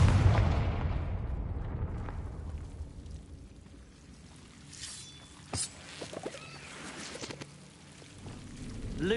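A loud blast erupts at the start from the Confringo blasting spell in Hogwarts Legacy, then a rumbling tail fades into quieter ambience with a few faint knocks.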